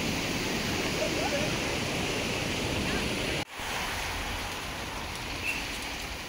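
Water flowing down from Bushi Dam makes a continuous rushing roar, steady and fairly distant, with wind buffeting the microphone and a short dropout midway.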